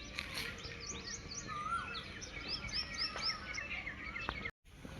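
Small birds chirp and tweet repeatedly in a millet field where peacocks and sparrows gather, bright overlapping calls over a steady outdoor hiss with faint insect buzz, no talking.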